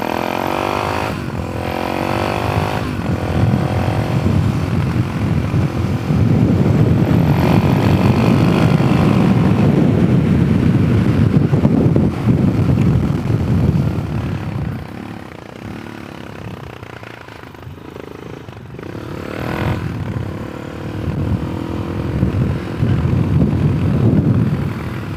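A Suzuki DRZ 470 SM motorcycle lapping the kart track at Oklahoma Motorsports Complex, its engine droning loud and close, rising and easing through the laps, with heavy wind rush over the microphone.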